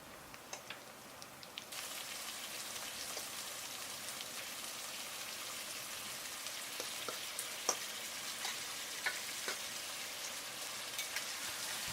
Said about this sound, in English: Fry the mutton well for at least 7 to 8 minutes.